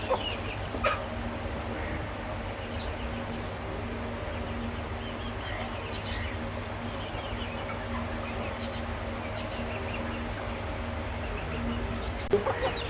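Chickens cluck softly and sporadically in a quiet farmyard, including an injured rooster kept apart, with a steady low background noise throughout.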